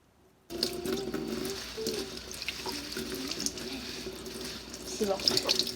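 Running tap water rinses a jelly fruit candy coated in Tabasco at a sink, a steady splashing stream starting after a short silence and continuing throughout, with faint speech in the background.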